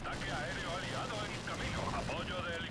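Aircraft scorestreak in Call of Duty Black Ops 4, a steady roaring engine drone with warbling tonal game effects over it, continuous and dense throughout.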